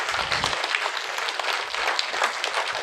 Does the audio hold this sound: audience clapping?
yes